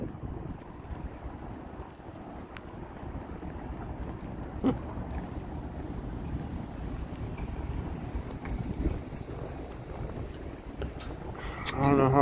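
Rumbling wind buffets the microphone outdoors at a police press briefing in St Paul, in uneven gusts, with occasional clicks and a louder blustery burst at the end; faint voices may sit underneath.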